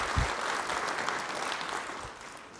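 Conference audience clapping after a tech keynote, a soft, fairly distant wash of applause that holds steady throughout, with a few low thumps.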